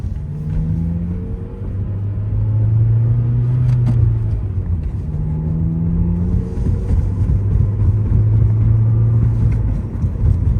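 A 2003 Ford Focus SVT is driven in third gear on a dry Michigan road, its engine holding a steady, fairly loud drone with slowly rising and falling pitch as it pulls along, with no voices.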